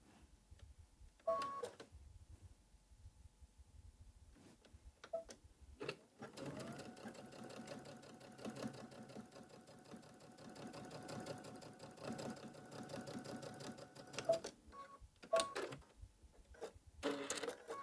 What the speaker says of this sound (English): Then we're just going to stitch about 1/8 of an inch on each long edge to do a nice top stitch.